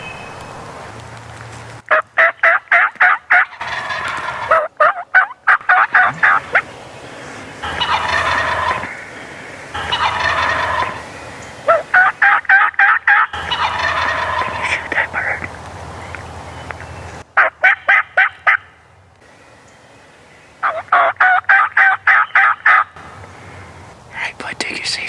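Wild turkeys gobbling in bursts during a hunt, loud and close, with repeated rattling gobble calls broken by short pauses and a few quieter stretches between.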